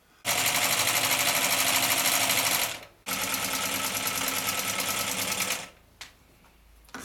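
A Chaika-134A sewing machine stitches in two long, loud, steady buzzing runs separated by a brief stop, then winds down to quiet with a faint click.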